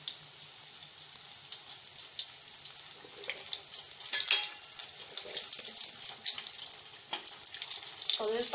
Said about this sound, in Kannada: ಈಗ ಇವನ್ನ ಎಣ್ಣೆಯಲ್ಲಿ ಕರ್ಕೊಳ್ಳೋಣ. ಈಗ ಎಣ್ಣೆ ಕಾದಿದೆ, ಒಂದೊಂದೇ ಇವನ್ನ ಬಿಟ್ಕೋಣ